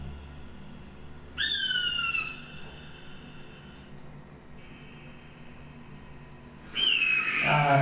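A man whistles an imitation of an eagle's call, giving two sharp, loud descending whistles separated by a long quiet gap, each bright and piercing against low background noise.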